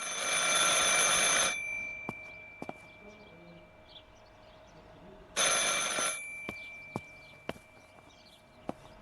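A telephone rings in the game Martha Is Dead: two loud, sustained bell rings a few seconds apart, with quiet room tone and sharp clicks between them.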